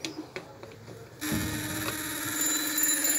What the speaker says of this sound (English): When the arm is vibrating, it is hitting the gong bell and the gong bell is making noise.